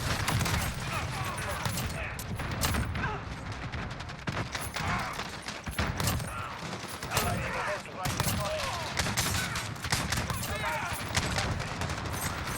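Model 680 pump shotgun with Dragon's Breath rounds fired in Modern Warfare, a dense run of blasts and explosions heard alongside a talking voice.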